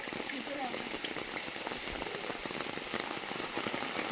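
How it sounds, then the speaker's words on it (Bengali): Steady rain falls outside during a wet afternoon, a dense, even hiss of drops on surfaces that holds a constant level with no clear breaks, close and fairly quiet, with a faint voice in the background. "বৃষ্টি নাগারে"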